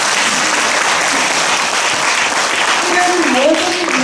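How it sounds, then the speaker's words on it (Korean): Seated guests at a book launch celebration in a Daegu live café applaud in thanks, steady close clapping for several seconds with a voice starting to speak near the end. "감사의 박수를 부탁합니다."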